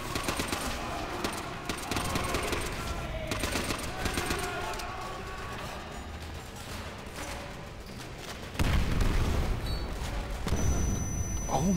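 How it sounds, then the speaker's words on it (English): Call of Duty: World at War gunfire crackles in rapid bursts, and a heavy explosion booms near the end as game combat, with talking over the action. "That explosion was so hard."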